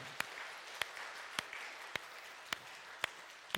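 A church congregation applauds during a Sunday service, producing a soft, even wash of clapping with several sharp, evenly spaced claps that stand out about every half second, like a steady rhythmic beat.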